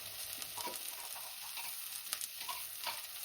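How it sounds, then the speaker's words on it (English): Garlic and ginger sizzling with light brown onion in a pan, a soft continuous frying hiss with occasional stirring scrapes, close and fairly quiet with no talk. "I'm going to put the garlic and ginger in it now."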